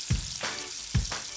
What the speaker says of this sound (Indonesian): Pertama-tama masukkan bawang putih ke dalam wajan.